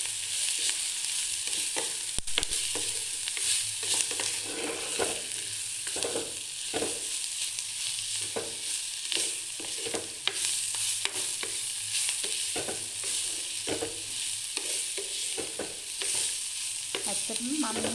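A spoon stirs scraped drumstick (murunga) pulp frying in a pan, giving a steady sizzle throughout with repeated scraping and clacking strokes, close and continuous, with no voices.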